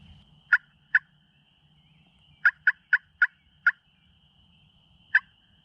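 Distant wild turkey gobbles ring out in short bursts during spring turkey season, a pair, then a quick cluster of five, then one more, over faint background rustle.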